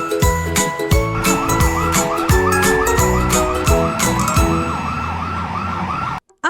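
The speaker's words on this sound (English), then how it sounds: "A police car. Wee woo! Wee woo! The police car speeds to the scene." Toy police car siren wailing in a steady electronic rising-and-falling pattern, loud and close, with tinkly musical tones and rhythmic beats beneath, cutting off abruptly near the end.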